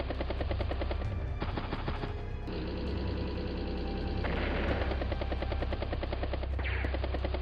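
Rapid gunfire and bursts from rocket and anti-air units attacking in Advance Wars: Days of Ruin, steady and loud throughout, layered over a dense, constant game soundtrack.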